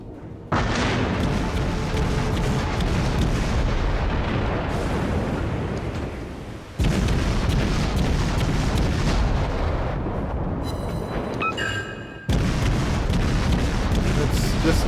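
Main turret guns firing on the USS Hotlanta, a ship in the World of Warships video game, in a rapid succession of heavy booms and rumbling blasts, loud and continuous, with a voice talking over them.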